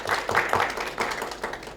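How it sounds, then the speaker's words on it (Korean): Brief burst of audience clapping at a bio-industry innovation forum after a professor's talk, a dense patter of many hands over under two seconds with no voices. "우리 김현범 교수님께 따뜻한 박수로 우리."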